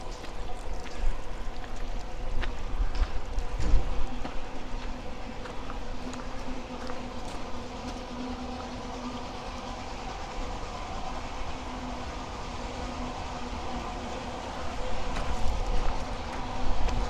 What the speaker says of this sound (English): You can hear the train going past.